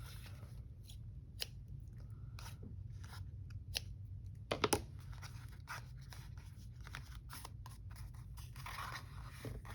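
Scissors trim paper for a handmade notebook journal, giving faint, quiet snips and light scratchy cuts scattered across a soft, hushed background.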